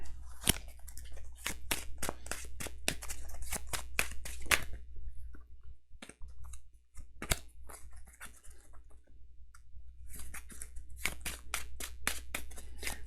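A deck of cards for the Earthborne Rangers card game is shuffled up close, giving quiet bursts of crisp clicks and flutters with a short pause midway and no talking.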